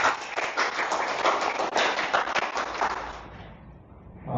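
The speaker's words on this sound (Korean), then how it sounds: "박수로 맞으시면 감사하겠습니다" A small audience at an Ubuntu community general meeting claps to welcome a speaker, a sparse patter of hand claps that thins out and fades toward the end.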